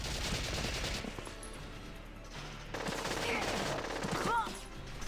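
Gunfire from a Valkyria Chronicles battle on PC: dense, continuous bursts of shots fill the whole stretch, with a brief lull midway, heard alone without talk.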